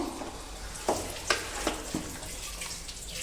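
Masala sautés for a chicken gravy, a soft sizzling bed with four or five distinct stirring scrapes and taps in quick succession, heard close with no speech.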